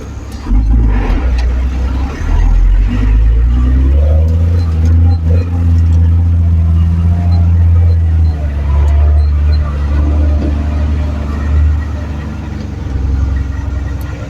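A 4WD car drives along a sandy track on Fraser Island, its engine droning loudly and close with shifting pitch as it works through the sand. A voice talks over it at times.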